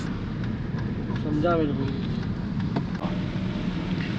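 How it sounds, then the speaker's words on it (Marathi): Heavy rain pours steadily in the forest near Savitri Point at Mahabaleshwar, a continuous close hiss broken by a brief passing tone. "आता आपण पॉईंटच्या जवळ तर पोचतो पण जोरदार पाऊस सुरू झालाय"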